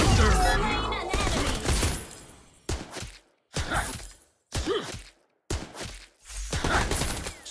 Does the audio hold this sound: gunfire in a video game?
yes